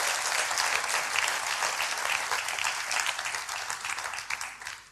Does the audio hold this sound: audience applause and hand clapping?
yes